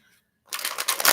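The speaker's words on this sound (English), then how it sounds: "Two more shuffles, they said." Tarot cards being shuffled close up: a short burst of riffling, crisp papery flutter that starts after a brief silence and runs to the end.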